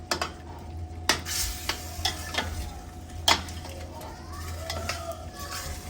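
Beef stew is stirred in a pot with a spoon, making repeated scraping knocks and clinks against the pot over a low simmering hiss, with faint voices in the background.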